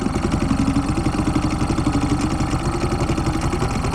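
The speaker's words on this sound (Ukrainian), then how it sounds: "Що, ось я на воді досліджую русло, глибини, вигріваю двигунчик." A small outboard motor warming up on a river idles steadily nearby, a constant rhythmic putter with a slight rattle and no voices.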